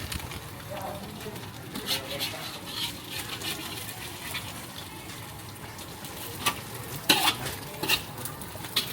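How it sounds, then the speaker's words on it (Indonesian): Eggs fry in a pan at a street food stall in a narrow Jakarta alley at night, giving a faint steady sizzle with scraping and clinking utensils, under background voices and bustle. "Telurnya digoreng."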